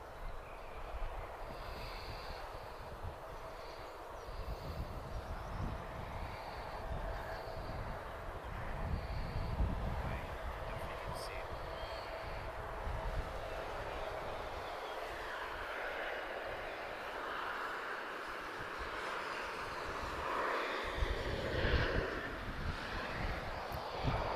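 Emirates airliner at Lisbon Airport, a continuous low engine rumble and roar with some wind noise, distant and steady throughout.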